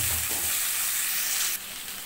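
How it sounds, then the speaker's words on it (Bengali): Brinjal frying in oil in a kadai, a loud, steady sizzle that swells at first as the pieces go in, then settles into a continuous hiss. "মাছটা তুলে নিয়ে কড়াইয়ে দিয়ে দিছি আরও একটুখানি তেল। এখন দিয়ে দিব বেগুন"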